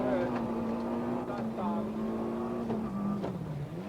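Mitsubishi rally car driven by a rally driver on a Welsh stage of the 1991 RAC Rally, engine droning steadily from on board as revs rise and dip with gear changes, with a voice talking over it.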